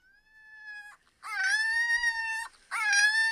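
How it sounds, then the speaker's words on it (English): A small dog howls and whines in long, wavering, high-pitched tones, three drawn-out cries separated by brief pauses, loud and close with no talk over it. "That's such a cute little dog."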